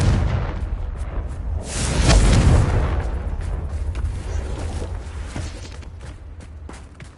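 A Confringo blasting spell in a video game, one deep rumbling explosion that swells and then slowly fades into a sustained low roar, loud and close.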